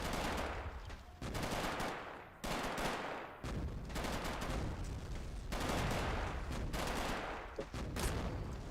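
Dense bursts of video game gunfire from a Robz Mod tournament battle, with machine gun and rifle shots crackling almost nonstop in loud overlapping volleys and brief gaps between clusters.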